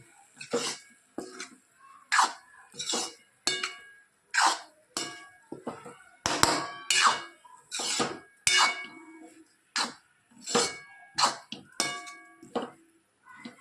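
A spoon or spatula stirs a thick mixture in a large metal kadai, making repeated sharp metallic clinks and scrapes in a steady stirring rhythm, close and clear, with no talking.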